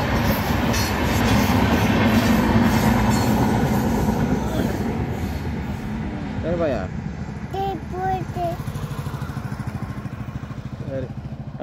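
A train rumbles past loudly and close, its steady roar of wheels fading slightly, with a few squealing tones and voices briefly heard over it.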